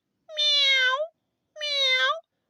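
Two drawn-out cat meows, each about a second long with a rising then falling tone, clear and close with a short silent gap between them.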